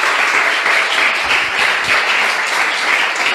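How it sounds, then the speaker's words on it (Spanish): A church congregation applauds together, a dense, steady wash of many hands clapping at once that holds at a loud level throughout, with no voices standing out. "Dale un aplauso al Señor."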